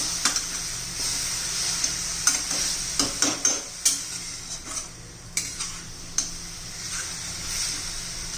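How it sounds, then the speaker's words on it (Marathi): Grated fresh coconut for laddus simmers in ghee and milk while a spoon stirs it, making a low steady sizzle broken by a run of sharp, rhythmic scrapes and taps on the pan, close by, with no voices. "आता आपण हे एक वाटीवर दूध घालून घेऊ दुधामध्ये चांगलं शिजू द्यायचं"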